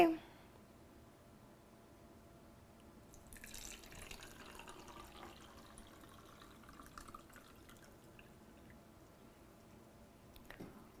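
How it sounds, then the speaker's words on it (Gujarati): Water from a jug pours into a glass to make lemonade. A soft, steady trickle runs for several seconds, fairly faint in a quiet room, and a brief knock comes near the end. "સૌ પ્રથમ ગ્લાસમાં પાણી લઈએ"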